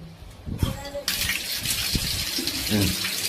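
A bathroom tap with a broken filter is switched on during a plumbing check, and water gushes steadily after a few clunks while someone talks nearby.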